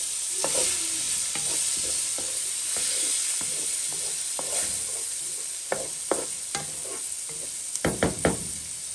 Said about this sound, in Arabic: راح ندير حبايبي هذا البصل اخليه شويه يتحمر